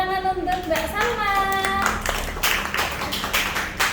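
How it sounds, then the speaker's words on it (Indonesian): Audience clapping to welcome a guest at an Indonesian talk event on personality, starting after a brief voiced tone and building into scattered, fairly close claps that continue steadily to the end. "Tepuk tangan untuk Mbak Salma."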